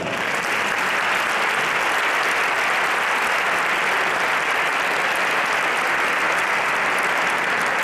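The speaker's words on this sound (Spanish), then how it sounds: "Un aplauso para" A theater audience at a flamenco concert gala in Leganés claps steadily and loudly, a dense, even wash of applause that holds for the whole stretch without letup.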